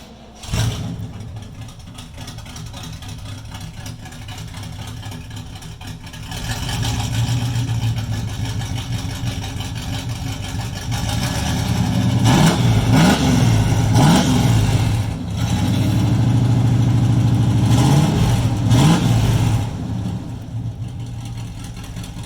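Straight-piped truck engine, a K10 pickup project, idling close by with a steady low rumble, then pulled into a series of sharp revs that rise and fall several times before settling back.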